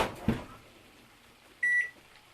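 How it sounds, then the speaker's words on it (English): A kitchen microwave timer gets set for a warming cycle: a couple of soft presses, then one short, clear electronic beep close by, with no talk. "you put it in, and then you set the timer"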